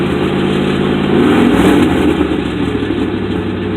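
A 1967 Ford Thunderbird engine idling as it warms up and drops off fast idle, a loud close steady rumble that rises slightly in the middle and then settles back.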